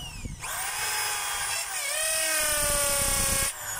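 A DeWalt DWD024 1/2-inch corded drill in hammer mode whines at a steady high pitch, a rapid hammering rattle running under it, close and continuous for about three seconds before it cuts off.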